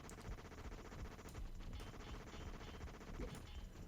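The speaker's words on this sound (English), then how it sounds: "you can't hear the freaking, music over the sound of the gunfire" Gunfire in the video game Operation Flashpoint crackles as dense, continuous bursts over loud game music, steady and layered throughout, with no talking.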